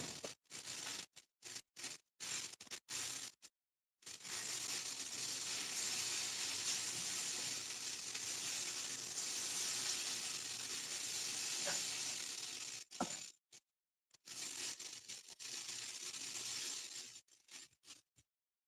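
Sausage links searing with butter in a potato skillet give a steady broadband sizzle and hiss, broken by short gaps and utensil clatter, close and fairly quiet with no talk.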